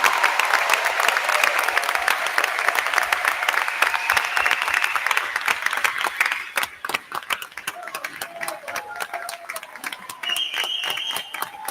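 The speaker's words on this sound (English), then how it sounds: "let's just give Mr. Sundell a round of applause for a remarkable career." Applause rises for a retiring staff member at a school board meeting, a crisp, fairly close patter of many hands that thins to scattered sharper claps toward the end.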